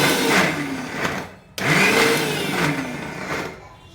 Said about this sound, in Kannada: ಇದನ್ನು ನಾನು ಮತ್ತೆ ಬ್ಲೆಂಡ್ ಮಾಡ್ತೀನಿ